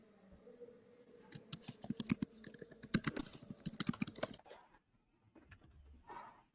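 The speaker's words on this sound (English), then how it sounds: "I can hear her typing now." Quick bursts of clicky keystrokes on a computer keyboard, rapid and irregular, then tapering off into quieter room noise.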